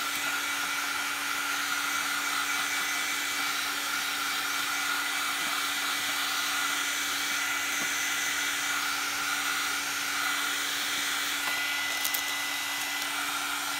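A heat tool blows steadily and loudly throughout while drying paper inked with Distress ink in Vintage Photo, a continuous whirring hum with no talk.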